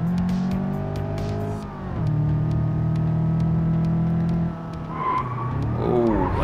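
A Polish limousine in BeamNG.drive is driven hard through curves on the jungle map, with a loud sustained engine drone that rises and falls in pitch, revs between gears and ends with tire squeal.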